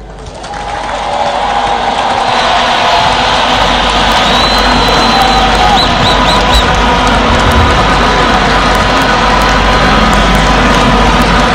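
A large crowd cheers and applauds at the outdoor inauguration of Zimbabwe's new president, after his address. A loud, continuous roar of clapping and voices rises quickly and holds steady, with faint whistle-like tones drifting through.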